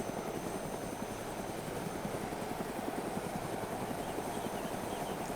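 A helicopter in the video game DayZ gives off a steady, continuous rotor and engine drone with a faint low pulsing. It sounds moderately distant and plays alone, with no talk over it.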